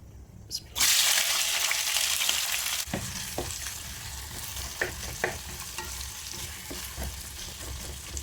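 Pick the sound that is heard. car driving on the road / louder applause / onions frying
onions frying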